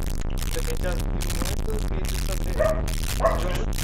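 Dog barks and yips from the horror video game Evil, a few sharp calls standing out late over a steady game soundscape, with a person talking over them.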